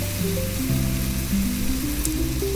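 Spice paste (masala) for fish-head biryani fries in a pan, a steady hissing sizzle heard close up under tonal background music.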